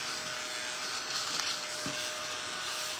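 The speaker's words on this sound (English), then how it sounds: "I'm gonna use my cute little dust vacuum" A small handheld dust vacuum cleaning up paint dust, a steady whirring motor hum that runs throughout, close and moderately loud with brief scraping bumps.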